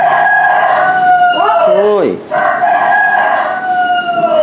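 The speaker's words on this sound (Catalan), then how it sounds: "És el gall" A rooster crows once, loud and close, its call rising and falling over a steady electronic hum, with a short shout from a person just before.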